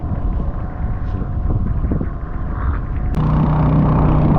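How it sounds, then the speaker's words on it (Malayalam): Strong wind buffets the microphone aboard a fishing boat on a backwater lake in Kerala, a continuous loud roar with the boat's engine rumbling underneath. "നല്ല കാറ്റുണ്ട്"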